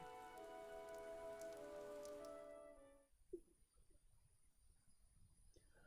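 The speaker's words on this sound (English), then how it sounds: "I love rain sound effects in games." Rain ambience from the video game Fire Emblem Three Houses, a steady soft patter of rain on surfaces, first under a faint musical tone that fades out, then alone and quiet.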